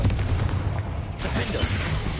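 Blasting Confringo spell explosions in Hogwarts Legacy, booming bursts over a rumbling game soundtrack, with a sharp blast and hiss partway through.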